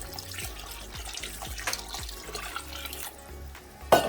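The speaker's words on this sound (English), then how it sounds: "Now I will add more water." Water pours into a pot of egusi soup that already holds bonga and dry fish, a close liquid splash and gurgle over a soft background music beat, with a sharp clink near the end.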